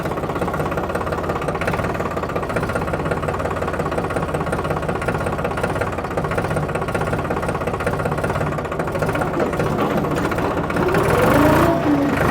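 A New Holland 3630 Super Plus 50 hp tractor engine chugs at a steady idle with a low rhythmic knock, rising slightly in loudness near the end.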